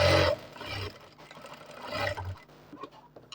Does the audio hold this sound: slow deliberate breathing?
no